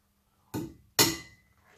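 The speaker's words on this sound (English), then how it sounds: "I probably could be using a smaller hammer" Two sharp metallic hammer strikes land half a second apart on a flange, the second louder and ringing briefly, in an otherwise quiet workshop.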